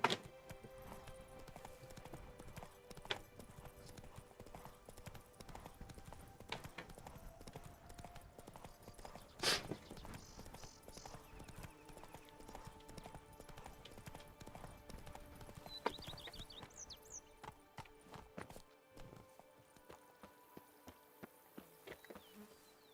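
The horse Roach in The Witcher 3: Wild Hunt – Blood and Wine, with steady hoof clip-clops running through a long stretch alongside faint insect buzzing and ambient game sounds, fairly quiet and without talking.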